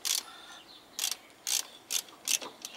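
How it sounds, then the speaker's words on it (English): A ratchet tightening a rear brake caliper bolt on a Ford Explorer, with five or six crisp clicking bursts at a steady pace, close and clear with no talking. "once I tighten this bolt up here"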